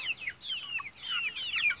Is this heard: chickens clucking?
yes